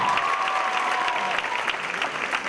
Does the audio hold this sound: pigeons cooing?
no